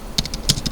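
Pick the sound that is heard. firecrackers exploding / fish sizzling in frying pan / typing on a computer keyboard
typing on a computer keyboard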